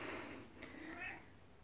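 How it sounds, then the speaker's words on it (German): Cats meowing indoors at close range, a couple of drawn-out calls over about two seconds, fairly quiet, with no talking over them. "Ey, das sind diese Katzen."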